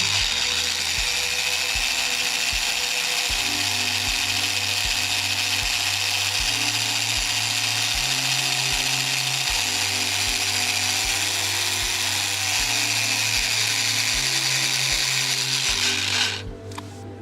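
A power drill bores into the metal accelerator pedal of a Porsche 996, giving a steady, close whirring drone that shifts pitch in steps for about sixteen seconds before cutting off abruptly.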